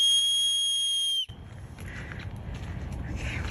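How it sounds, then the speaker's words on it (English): A loud, steady high-pitched emergency whistle blast, held alone for just over a second and then cut off, leaving noisy outdoor rustling and movement in a wilderness setting. "Laura blew her emergency whistle and screamed until her throat burned"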